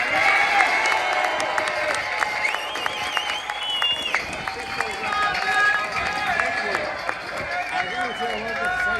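Crowd at a Dublin street rally on immigration claps and cheers steadily, loud and close, with shouts and voices mixed through the noise.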